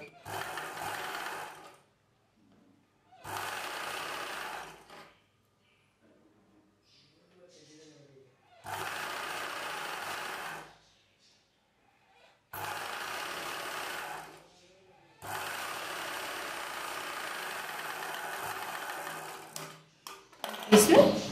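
Domestic sewing machine stitching a lined blouse with a shaped belt piece, running in five bursts of a few seconds each separated by pauses, close and moderately loud, with a brief clatter at the end.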